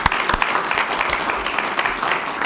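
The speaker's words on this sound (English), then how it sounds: "Give him a round of applause." A crowd at a city council meeting claps loudly and steadily for a brief stretch, dense and close.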